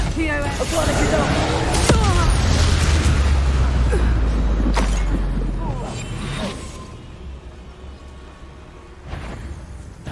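Confringo spell blasting in the video game Hogwarts Legacy: heavy, loud booming explosions with deep rumble and crackling debris, fading into a quieter tail before a final thud.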